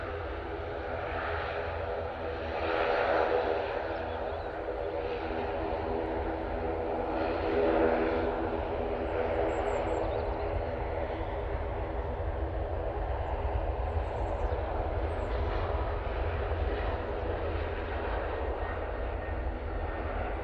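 A propeller aircraft at Manchester Airport gives a steady, moderately distant engine drone that swells slightly at moments and carries on without a break for the whole stretch.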